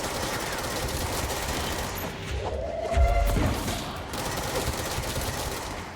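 Machine gun fire in a video game forms a steady, rapid, continuous rattle at close range, with a heavier thump and crash near the middle and no talk over it.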